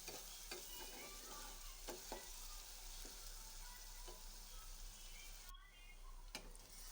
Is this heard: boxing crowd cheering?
no